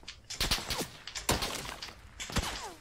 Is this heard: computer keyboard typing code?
no